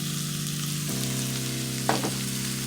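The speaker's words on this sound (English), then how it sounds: "once you're done sauteing your onion and garlic, I'm going to add our ground beef in." Ground beef frying with sautéed onion and garlic for crock pot lasagna, a steady close sizzle with a tonal hum underneath and a brief stirring scrape partway through.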